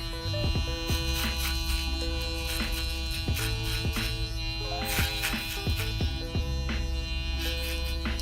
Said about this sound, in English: I'm gonna follow that same exact path using my foil shaver